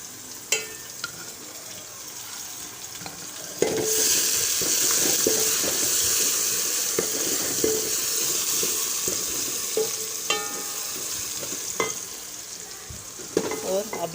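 Garlic-ginger paste frying with onions in a pan for a home-style Pakistani chicken curry, a steady close sizzle with repeated stirring scrapes and spoon knocks throughout, no talking.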